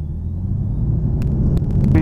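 A light aircraft engine warms up before takeoff as a steady low rumbling drone, close and continuous, with faint clicks and a rising note near the end.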